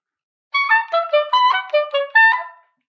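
Oboe etude played with clipped slurs, so each note is chopped short with brief gaps between them. Eight or nine separate reedy notes come in an uneven rhythm, close and solo, over silence.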